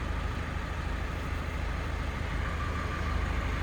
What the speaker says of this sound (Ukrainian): Перший тракторець пішов.